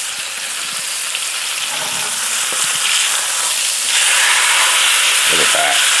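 Flank steak fries in a pan with a loud, continuous sizzle and hiss that swells near the end, with a few soft clatters of utensils and no speech.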